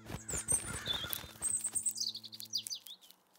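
Cartoon birds chirp and tweet in quick bright bursts, several calls overlapping over a soft musical backing that drops away, leaving only chirps near the end.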